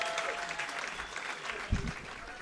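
A crowd applauds steadily, a dense patter of clapping that holds for a couple of seconds, with some cheering mixed in.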